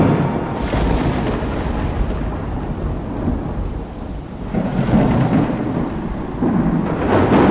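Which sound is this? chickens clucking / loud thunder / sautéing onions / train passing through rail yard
loud thunder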